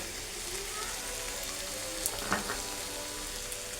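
Mushrooms fry in a pan with sauce for noodles, giving a steady soft sizzle broken by a couple of sharp clicks from stirring utensils.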